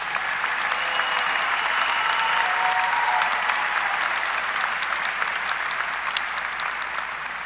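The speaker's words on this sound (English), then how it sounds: "Please join me in applauding our summa cum laude recipients." Seckman High School 2021 graduation audience claps for summa cum laude honor graduates, a broad, steady roar of many hands lasting several seconds with a slight fade near the end.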